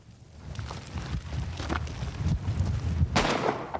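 Rifle bullets fired at high speed into a crater target outdoors, several sharp bursts standing out over wind noise, one especially strong crack near the end.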